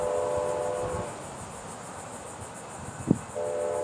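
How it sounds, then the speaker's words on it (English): Northbound Brightline train BLF 704 passing on the East Main line, a steady rushing rumble of wheels with a short horn blast at the start and again near the end, fairly close. "BLF 704 northbound coming to us right now on the East Main."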